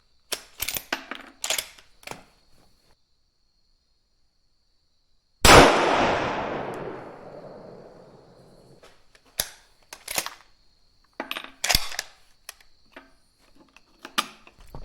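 A muzzleloader rifle fires a single loud shot at a shooting range, a sharp blast followed by a long fading rumble, set among quieter clicks and handling noises before and after.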